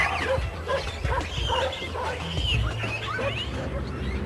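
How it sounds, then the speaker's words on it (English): A band of feral dogs barks and yips in a busy, overlapping chorus, with whimpers mixed in, fairly close and continuous throughout. "They share the site with Taif's band of feral dogs."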